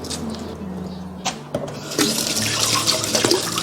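Tap water running into a sink while gutted lizardfish are rinsed, a steady close splashing stream with occasional knocks and handling sounds.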